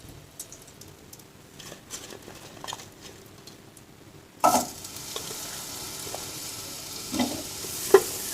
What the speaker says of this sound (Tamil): அதை இதில் சேர்த்துட்டு கொஞ்சம் நேரம் அப்படியே வதக்கிட்டே இருக்கணும்